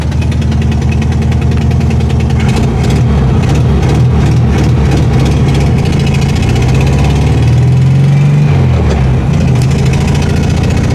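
Rough-running engine of a Bradley GT II kit car, a loud, low rumbling drone that shifts pitch and pulls harder as it is slammed into gear, with a rising sweep near the end.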